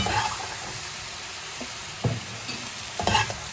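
Beef searing in a hot pan for a stir fry: a steady, soft sizzle with a few brief scrapes and clatters as the meat is moved, no voices.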